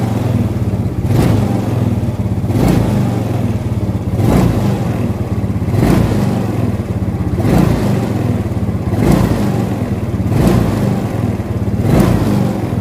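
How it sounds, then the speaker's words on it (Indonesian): A Yamaha Mio Soul scooter engine, just after carburetor service, is revved repeatedly at a steady rhythm, roughly every one and a half seconds, loud and close over a continuous idle. "Setelah kita servis karbunya, kemudian kita pasang dan kita tes lagi kembali motornya, apakah dia masih delay."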